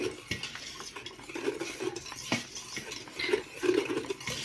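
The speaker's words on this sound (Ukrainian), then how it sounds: "Перемішуємо." Paska (Easter bread) dough mixture being stirred in a bowl, with utensil scraping and clinking against the sides in steady, close, fairly loud strokes, no talk.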